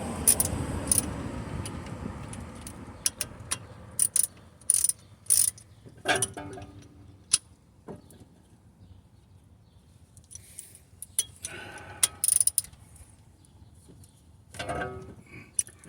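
Ratcheting wrench clicks in bursts, tightening brake bolts during a front brake pad and rotor job on a Cadillac Escalade ESV, with metallic taps and pauses between runs.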